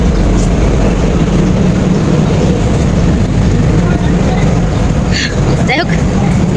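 A loud, continuous rumble of a passenger train on a holiday journey fills the whole stretch, with brief squeaks near the end.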